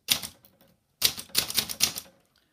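An Olympia Traveller typewriter types a few quick keystrokes, a single sharp clack followed by a short pause, then a rapid cluster of four close, crisp strikes.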